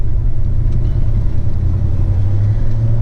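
A 1990 Ford F-150 XLT with a 5.0 V8 and four-wheel drive pulls out, its engine giving a steady, close, low rumble that swells slightly toward the end, with no voices.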